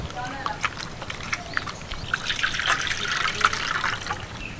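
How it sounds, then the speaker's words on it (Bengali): Two grated potatoes being rinsed in water in a kitchen: trickling, splashing water with sloshing and the patter of a running stream rising in the second half, close and fairly loud, with no talk. "দুটো আলু সুন্দর করে গ্রেট করে নিয়েছি এবার এগুলোকে ভালো করে ধুয়ে নেব"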